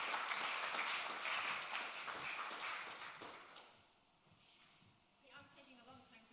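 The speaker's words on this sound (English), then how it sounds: "Round of applause" An audience at a talk event claps as a speaker walks on stage, a dense burst of applause that fades after a few seconds into a voice at the microphone.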